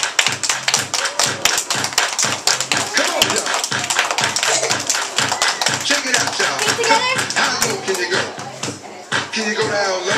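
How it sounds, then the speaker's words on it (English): Children and adults clap along during a dance at a school event, sharp claps landing in a steady rhythm over loud dance music, close and continuous for the whole stretch. "Everybody clap your hands."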